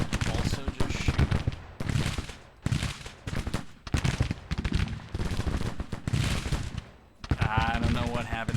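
Troops shooting in a Civil War video game, crackling volleys of gunfire in repeated bursts, loud and close, with a voice talking over the shots.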